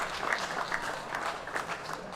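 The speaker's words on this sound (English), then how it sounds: "Once more, a big round of applause for our finalists." Audience applause for powerlifting finalists at the World Classic Powerlifting Championships, a moderate, steady patter of clapping from a hall crowd lasting a couple of seconds.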